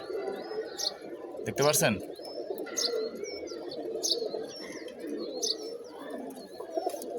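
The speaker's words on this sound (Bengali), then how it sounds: "এটা একটা সবুজ গলা নট।" Green-necked racing pigeon cooing close by in repeated soft low calls, with higher chirps from other birds, a sharp clatter partway through, and someone speaking over it.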